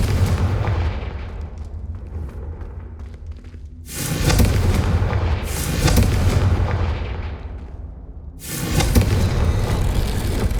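Confringo blasting-curse explosions from the Hogwarts Legacy video game: a rumbling background breaks into three heavy, loud booms spaced a couple of seconds apart, each with a long roaring decay.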